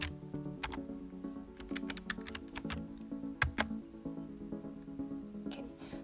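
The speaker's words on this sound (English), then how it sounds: "Let me type in command sudo jtop." Keys clatter on a computer keyboard as a command is typed on an NVIDIA Jetson Xavier NX edge AI system, with irregular close clicks and short bursts over a steady low hum.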